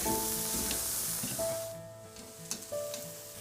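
Big steaks sizzle loudly as they cook, a bright hiss that is strongest at first and then eases, with faint whining tones and small pops and clatters heard close by.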